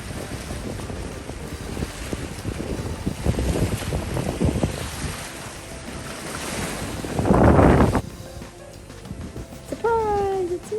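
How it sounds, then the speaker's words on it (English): Waves wash on a lake, in irregular swells with a louder surge near the end, all under heavy wind buffeting, followed by a few faint high chirps. "I just want you to hear the waves."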